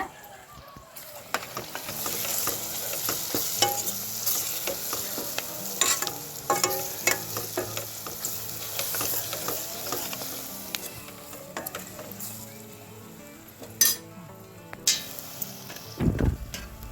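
Chicken and potatoes with turmeric frying in a pan, with a soft steady sizzle broken by repeated scraping and clinking strokes of a spoon stirring, close by.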